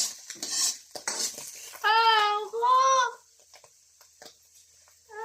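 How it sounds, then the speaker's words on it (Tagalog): A metal utensil clanks and scrapes in an old pan as mushrooms are sautéed, with sharp bursts of clatter broken by a loud wailing voice. "Igisa ko muna tong mushroom kasi lasang goma to kapag hindi nagisa ng maayos."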